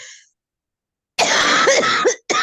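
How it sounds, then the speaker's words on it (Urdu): An audience member coughs straight into a live microphone during a religious lecture, a loud, close, rasping cough lasting about a second, then a second harsh burst starting right after. "مائک کو بند کریں تاکہ ساری دنیا آپ کی کھانسی کو سن رہی ہے"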